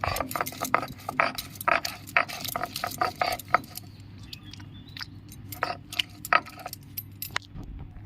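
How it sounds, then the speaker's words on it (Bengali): Spices are ground on a shil-nora grinding stone with rapid scraping and knocking strokes, loud and close, in bursts that thin out partway through before picking up again. "এবার শিলনোড়াতে আমি সব বেটে নেব।"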